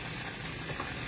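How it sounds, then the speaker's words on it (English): Ground pork sizzling and frying in a pan for potstickers, a close, continuous crackling hiss with no talking. "You can kind of hear it sizzling."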